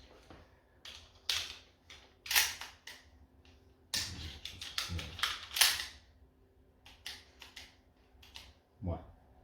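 A Kimar 92 9mm PAK alarm pistol being loaded and chambered, a series of sharp metallic clicks and clacks of the magazine and slide, close and crisp against near silence.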